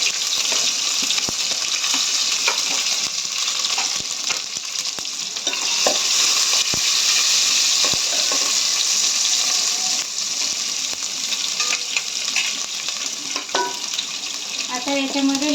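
Cumin, ginger-garlic paste and curry leaves hit hot oil for a sambar, making a loud, continuous crackling sizzle with scattered pops and stirring clatter.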